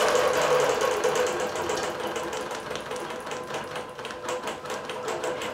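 A longarm quilting machine stitches a busy-fabric quilt border about 94 inches long, a rapid close mechanical chatter of needle strokes running steadily throughout.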